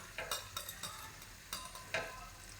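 Turmeric fries in a pan for a sprouted-bean saaru, with a steady low sizzle broken by several sharp scraping stirs of a spoon against the pan. The sound is close and there is no talking.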